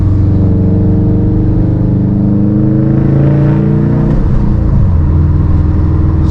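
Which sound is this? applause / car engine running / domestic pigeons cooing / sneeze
car engine running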